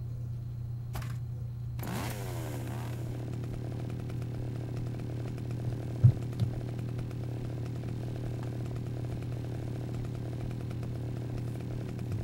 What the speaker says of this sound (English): A chainsaw. Screw the pipe. I want that.